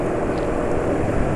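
A motorcycle engine breaking in on new oil with a ZDDP additive, idling smoothly in a steady, even low drone, close and fairly loud with no talk.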